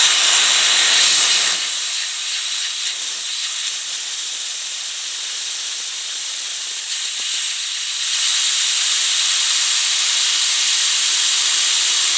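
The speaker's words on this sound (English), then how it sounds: "Let's see if we can get it spinning with some compressed air" Compressed air hissing loudly onto a sealed roller bearing, a strong steady blast that drops to a softer rushing hiss for several seconds, then rises again, close and uninterrupted.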